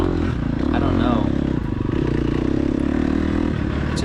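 An off-road motorcycle engine idles on a steep hill, a loud, steady, low throbbing hum that holds unchanged throughout, with light rattles and faint background voices.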